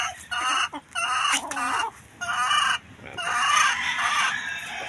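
A gamecock rooster clucks and crows close by in loud bursts separated by short silences, with one drawn-out crow toward the end.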